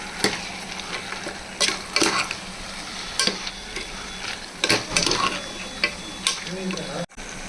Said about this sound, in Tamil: மட்டனை ஆட் பண்ணி ஃப்ரை பண்ணலாம்.